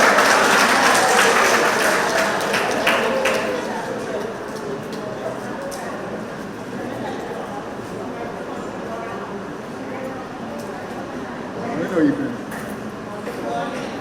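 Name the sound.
round of applause for new member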